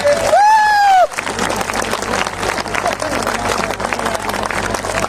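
A political rally crowd applauds after a pitched tone at the start, then dense sustained clapping with some cheering fills the rest, loud and continuous.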